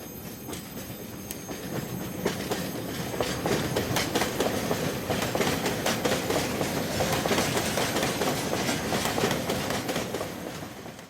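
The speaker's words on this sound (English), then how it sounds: "the train returns to coal transportation service till the evening shift change time" A coal train rolls past on the rails, its wheels clacking rhythmically in a steady rumble that builds and then holds.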